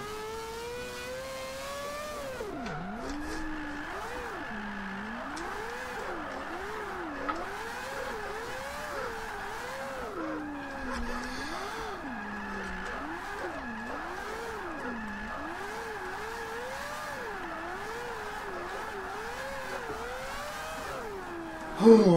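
Mazda MX5 with a 4-rotor engine drifting in Forza 5, a continuous rising and falling engine whine with rhythmic revving through the slides, steady and moderately loud.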